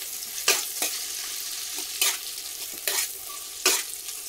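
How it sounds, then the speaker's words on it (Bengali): Chopped onions frying in a pan for a fish kalia, with a constant sizzle broken by about five sharp scrapes of a spatula at an irregular beat, close by and with no voices. "এবার পেঁয়াজের রংটা চেঞ্জ না হওয়া পর্যন্ত ভেজে নিতে হবে"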